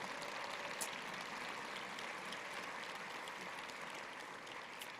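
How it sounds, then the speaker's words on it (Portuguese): A church congregation at a state pastors' convention applauds the Lord, a dense, continuous wash of clapping from many hands, steady and moderately distant throughout, with no speech over it. "Pode aplaudir o Senhor com alegria"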